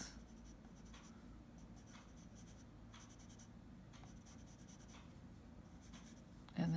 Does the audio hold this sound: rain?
no